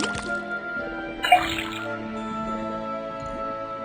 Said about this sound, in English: put the sample of liquid into the cauldron, then tap the faucet